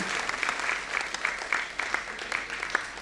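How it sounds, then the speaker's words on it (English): An audience at an Indian classical music event applauds a performer called to the stage, a steady crowd clapping with distinct individual claps popping out, fairly close and sustained. "A wondrous, thunderous clap should be in the order of the day."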